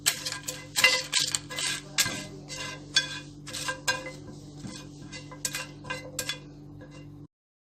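Whole spices for a dal makhani premix dry roasting in a pan over a slow flame: close, irregular clinks and scrapes of a spoon stirring against metal, with a soft steady hum underneath, ending abruptly.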